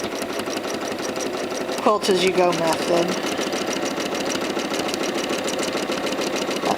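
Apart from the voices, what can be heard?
sewing machine free motion quilting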